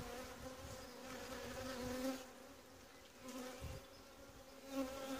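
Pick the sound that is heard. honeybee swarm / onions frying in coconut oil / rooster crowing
honeybee swarm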